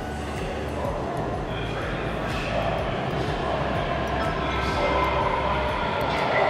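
A steady low rumble of a moving train in Japan fills the scene, with rail noise and faint voices in the background throughout.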